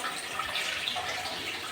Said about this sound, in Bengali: একটু জল ভরা হচ্ছে